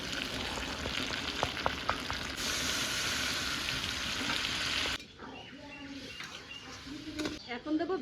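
Meat sizzles and fries in hot oil in a pan as a little water is added: a loud, steady hiss for several seconds that drops to a quieter crackle with faint clinks.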